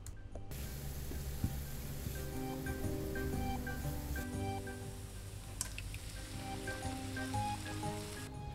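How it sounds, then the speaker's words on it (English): Finely diced onion and carrot sauté in a pan, a soft, steady sizzle with light pops and crackles, fairly faint and heard alone without talking. "Sauté till translucent."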